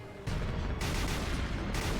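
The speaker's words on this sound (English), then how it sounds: "those explosion effects are very strange" Realistic explosion sound effects from a One Piece anime episode: loud, dense, rumbling blasts that burst in abruptly and sustain in two or three heavy waves.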